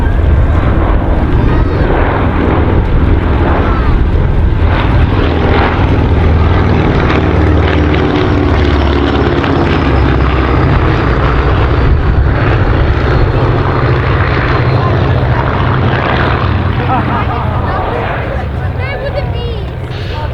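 An Avro Anson and a Bristol Blenheim, vintage propeller aircraft, make a single low flypast at the Shuttleworth air show. Their piston engines give a loud, continuous droning roar that holds for about twenty seconds before easing off slightly at the end.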